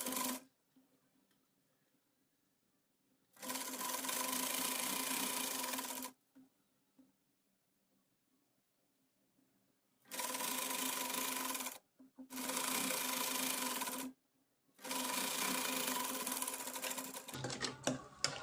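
A sewing machine stitches frock fabric in four separate bursts of fast, buzzing whirring, the last two close together, with quiet pauses between them.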